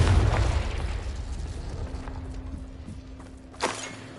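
A Confringo fire-curse explosion from the Hogwarts Legacy game bursts at the start, a loud low boom that rumbles and fades over several seconds, followed by a smaller crackling pop near the end.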